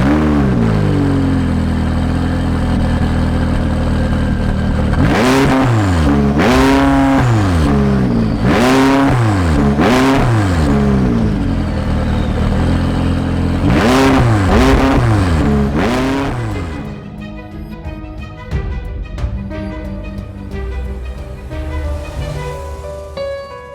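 McLaren 540C sports car engine revving hard through repeated rising sweeps and gear changes, loud and close, then easing off to a lower, rougher idle-like rumble near the end.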